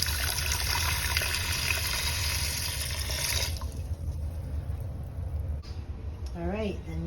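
Water poured into a large pot for elderberry syrup makes a steady rushing splash for a few seconds, then stops, leaving a faint background with a voice talking near the end.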